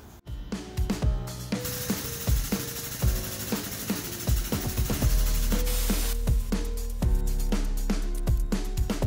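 A tube bender works a steel tube for a trike build, giving repeated ratcheting clanks and metallic clicks over a continuous mechanical hum in a garage.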